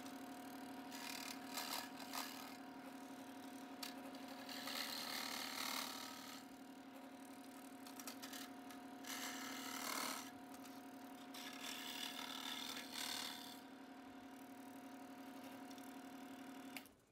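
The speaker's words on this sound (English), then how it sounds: "this scroll saw has been the easiest for me. I just learned over time, just cut on the outside of the line" Scroll saw cutting wooden components for a trailer light tester, a steady buzzing motor hum with rapid reciprocating blade chatter, rising into rasping bursts as the blade bites the wood, then stopping at the end.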